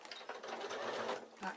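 Sewing machine stitching a back tack on leather-look fabric, a steady continuous mechanical whir running throughout, fairly close and moderately quiet, with a short rise in intensity near the end.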